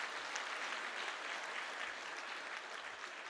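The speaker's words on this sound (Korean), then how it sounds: "인사하실 때 큰 박수로 환영해 주시기 바랍니다" A church congregation gives steady, dense applause to welcome a new youth pastor at a Sunday worship service, an even sustained patter heard alone without any voices.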